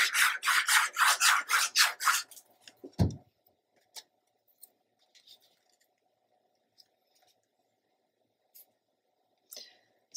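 Paper for a mini album page is trimmed with repeated rhythmic rasping cuts in quick succession, followed by a thump and scattered faint clicks and rustles in a quiet room.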